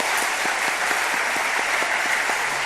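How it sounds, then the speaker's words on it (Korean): A church congregation at a Sunday evening service applauds two choirs with steady, evenly sustained clapping throughout, with no voices over it. "우리 감사하다는 의미로 박수로 한번 격려하겠습니다."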